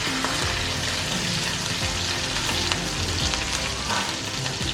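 Ginger, garlic and green chili frying in oil in a pan, a steady loud sizzle with crackling throughout and light stirring clinks, no voices.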